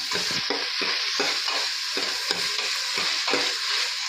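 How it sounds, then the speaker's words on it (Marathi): Capsicum being sautéed in oil in a pan for vegetable pulao, a bright frying sizzle broken by repeated rhythmic scrapes and stirs of a spatula, close and fairly loud, with no voices. "आपण शिमला मिरची टाकणार आहोत ही थोडीशी परतणार आहोत"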